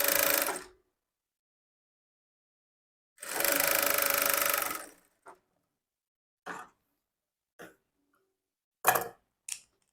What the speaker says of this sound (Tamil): ஒரு தையல் போடுறேன்.